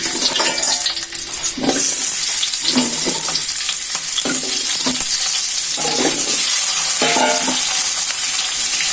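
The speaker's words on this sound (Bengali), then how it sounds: "তেল গরম হয়েছে, আলুগুলো ছেড়ে দিচ্ছি।" Potatoes frying in hot mustard oil for a mutton biryani meal, a loud continuous sizzle with bursts of stirring and spatter, close up, no talking.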